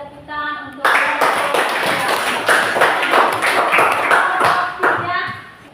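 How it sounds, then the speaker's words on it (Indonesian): A classroom group claps together in a quick, loud burst of applause. Voices can be heard briefly before it starts and as it dies away. "baik kita tepuk tangan untuk kelompok"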